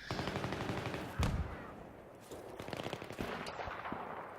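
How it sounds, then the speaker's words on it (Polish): Gunfire from the Battlefield 3 shooter, including sniper fire, with rapid crackling bursts and one heavy close shot, rattling on throughout the battle noise. "a oni do mnie strzelają ze snajpry"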